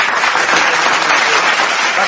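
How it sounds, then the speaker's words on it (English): Dense, loud applause from a crowd, continuous clapping filling the whole short stretch with no pauses. "Round of applause for your motherfucking self."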